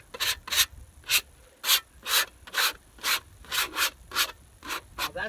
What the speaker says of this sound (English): Making a lot of scraping noise.